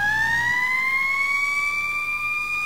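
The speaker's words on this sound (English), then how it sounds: "There's the real siren, though." A fire truck siren in the EmergeNYC emergency-response video game wails with a steady rising electronic tone, loud and close, over a low engine rumble and with no talk.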